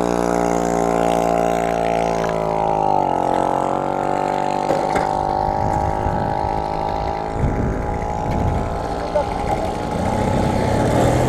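Moped with a free-flowing exhaust idles, then revs up and pulls away. The loud buzzing engine drone holds a steady pitch, drops as it moves off, and people talk over it.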